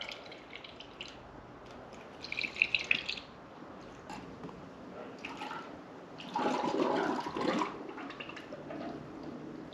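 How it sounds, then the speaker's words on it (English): Coolant gurgling and burping as it is poured through a small funnel into a dirt bike's cooling system during a coolant change, a low liquid glug swelling louder near the end, with no talk. "You want to hear the system burp out."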